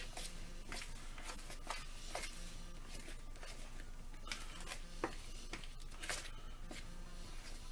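A fork stirs cookie dough and cake mixture in a bowl, giving faint, irregular scraping and ticking taps that repeat steadily at close range, with no talk.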